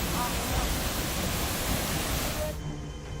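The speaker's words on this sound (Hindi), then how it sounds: "लगातार हो रही बारिश से झरने से बेतहाशा पानी गिरने लगा।" Waterfall swollen by continuous heavy rain in Uttarakhand, pouring with a loud, steady broadband roar that fills the whole clip before easing slightly near the end.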